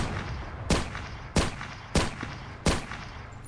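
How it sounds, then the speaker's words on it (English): Four rapid, loud gunshots from an engineer rifle in Battlefield 1942, spaced roughly every half second and ringing out sharply over a steady background rumble with no talking. "You gotta love how many shots you can take in rapid succession with this version of the engineer rifle."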